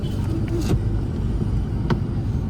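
A car pulling away in first gear during a driving lesson, its engine giving a steady, loud low rumble throughout with a couple of brief higher clunks.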